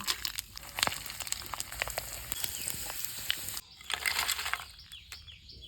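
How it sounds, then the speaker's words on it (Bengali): Papad chips made from boiled potato, sun-dried, frying in hot oil with a soft continuous sizzle broken by crackles and scraping clicks, quiet and close, a brief drop in the middle before the bubbling resumes. "পাঁপড়গুলো এবার আমরা ভেজে নেব।"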